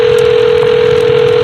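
A steady, loud telephone dial tone holds for over a second in Memento Mori 2, then cuts off abruptly.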